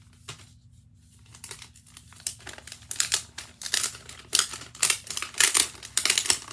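Paper crinkles and tears as an envelope is opened by hand, a quick series of sharp rustling bursts growing busier after a quiet start, close and alone without talk.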